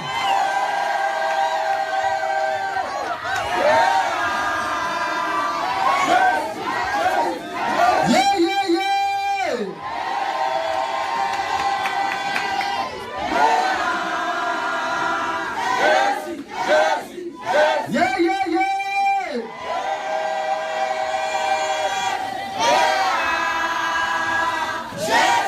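A church congregation welcoming a returning prophet roars with cheers, whoops and shouts, loud and sustained, with repeated surging yells rising over a continuous crowd din and a voice urging them on.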